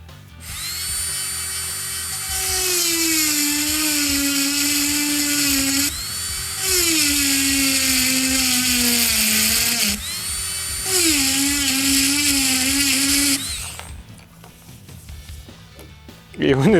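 A Graviergerät GG12 rotary engraving tool with a bur runs with a loud, steady high-pitched whine. The pitch sags and recovers across three long runs before it stops near the end.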